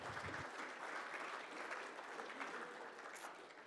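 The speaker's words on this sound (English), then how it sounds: "So let's give him a big round of applause." Audience applause fills a morning lecture session, a steady dense wash of clapping that stays loud from start to finish with a slight easing near the end.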